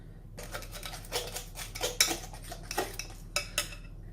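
A fork whisks egg batter for onion bhajis in a bowl, producing quick irregular metallic clinks and taps against the dish, close and crisp with no talking.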